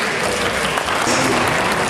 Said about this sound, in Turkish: Şimdi çocuklardan rica etsem anne ve babalarını alkışlayabilirler mi?